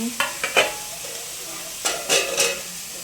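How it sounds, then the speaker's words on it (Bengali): Red amaranth greens cooking in a pan are stirred with a few quick scraping strokes over a soft sizzle, near and fairly loud, in two clusters of stirring. "আর এখানে লাল শাক বানাচ্ছি"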